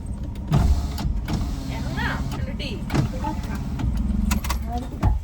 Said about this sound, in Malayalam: ഇവിടെ ഗ്ലാസ് താത്താൻ അറിയത്തില്ലടാ